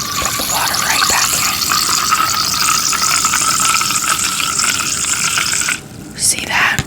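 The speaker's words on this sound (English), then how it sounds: "we can just put the water right back" Water poured back into a container, a loud, close, continuous rushing pour lasting several seconds that cuts off abruptly, followed by a brief quiet sound.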